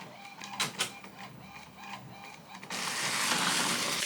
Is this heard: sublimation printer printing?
yes